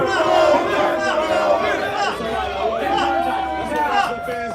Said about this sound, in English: let me hear a Roman chant for O'Shea